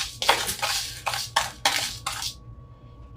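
Sugar scrub stirred in a bowl, a utensil scraping and clinking against the sides in a run of about five rhythmic strokes, close and fairly loud, then stopping.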